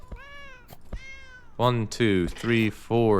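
A cat in the video game Please, Touch the Artwork 2 gives two short, clear meows, then a person speaks loudly over the game sound.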